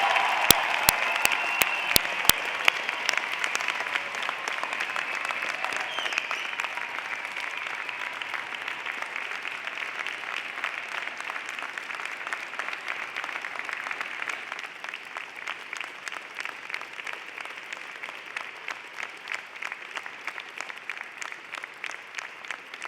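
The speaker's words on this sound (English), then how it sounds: "join me in applauding the amazing graduating class of October 2017" A convocation audience at a Simon Fraser University ceremony gives sustained, even applause for the October 2017 graduating class, a dense wash of clapping that slowly thins toward the end.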